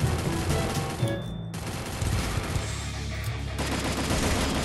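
Rapid automatic gunfire in the Free Fire battle royale game during a 4v4 match, dense bursts of shots filling most of the clip with a brief lull near the middle.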